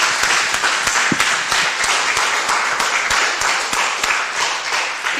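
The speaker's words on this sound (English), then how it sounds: "give a round of applause" Sustained applause from a data science conference audience in Villach, dense steady clapping throughout with a few individual claps standing out.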